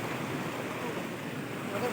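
Flood water surges across a rural road between Pua and Tileshara near Tarbha, giving a steady, loud, broadband rush with no pauses, and a voice may be faintly mixed in.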